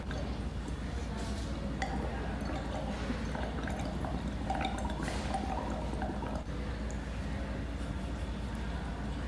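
Breath is blown through a tube into lime water, and the liquid bubbles and gurgles in a steady, close stream for several seconds, with faint room noise underneath.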